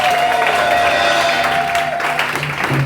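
A church congregation clapping and cheering for Jesus, dense steady applause from a large crowd with a sustained tone and voices mixed in.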